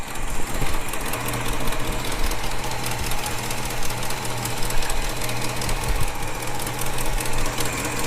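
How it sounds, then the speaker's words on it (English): A Holden HK car engine idles close up, a loud, steady mechanical chug with a rapid even knocking pulse and a constant hum, no voices. "at the moment she's running really good and no noise because I've got it running so straight"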